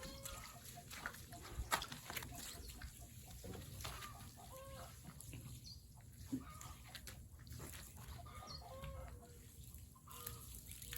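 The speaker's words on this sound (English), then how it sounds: "Sounds like my chickens are laying eggs." Several chickens cluck and squawk in a busy, continuous chorus, with occasional louder calls standing out against the steady barnyard murmur.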